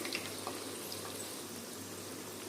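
Pakoras sizzle in hot oil for a street-shop style batch, a steady bubbling frying hiss with faint crackles and pops throughout, close and alone without talk.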